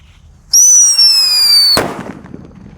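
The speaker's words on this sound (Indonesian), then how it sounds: "di sini ada Whistling Thunder. Kita lihat reaksinya." A Whistling Thunder firecracker gives a loud, sustained descending whistle lasting over a second, then ends in a single sharp bang that dies away into a short rumble.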